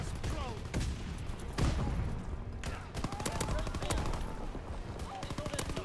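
Rapid shotgun blasts and gunfire from a Call of Duty WW2 Domination match, loud repeated sharp bursts dense across the whole stretch with brief game voice and talk underneath.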